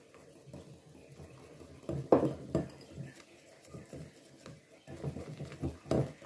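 A spoon clinks and scrapes against a bowl while egg and yogurt are mixed for meat pie pastry, irregular clattering taps with a few louder knocks, close and moderately loud.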